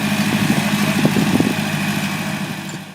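Tractor engine of a John Deere 3020 running steadily, a loud, low, throbbing diesel drone with a brief rougher surge midway, heard alone without talk.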